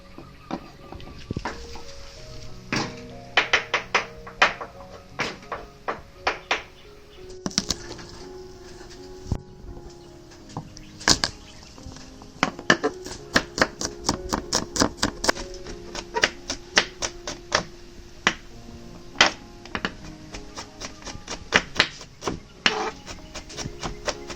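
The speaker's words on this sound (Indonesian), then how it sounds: "Ini bawang putihnya digeprek saja ya, sama dicincang." Garlic cloves are crushed and then minced on a board for a stir-fry of yellow burrhead greens, with sharp knife taps and thuds in irregular bursts, close by and steady for a long stretch.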